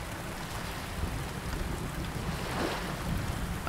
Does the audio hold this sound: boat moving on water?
yes